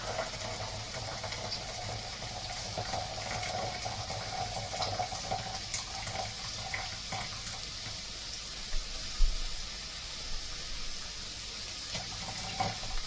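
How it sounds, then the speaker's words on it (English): Water poured steadily into a stew pot of creamy cider rabbit stew, a continuous soft splashing and trickling close by that runs for the whole stretch with no talk. "And now in goes our 300 mils of water."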